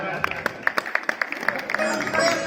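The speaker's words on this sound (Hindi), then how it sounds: "इनके लिए भी 2 ताली बजा दो" Scattered hand claps at a wedding reception, a few sharp separate claps ringing out one after another, with voices and chatter around them.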